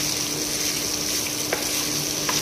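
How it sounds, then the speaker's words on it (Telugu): Cut okra pieces fry in a pan under a steady, close sizzle, with a couple of faint clinks as they are gently stirred. "మనం చిన్న చిన్నగా కట్ చేసుకున్న బెండకాయ ముక్కల్ని ప్యాన్లో వేసుకోవాలి. మెల్లగా కలుపుతూ మొత్తం మంచిగా వేయించుకోవాలి."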